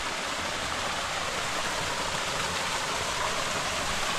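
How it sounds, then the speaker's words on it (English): A small trailside waterfall spilling over rocks at different levels, a steady broadband rush of water heard close and alone, with no voices. "I don't know if you'd really call it a waterfall, but it's beautiful."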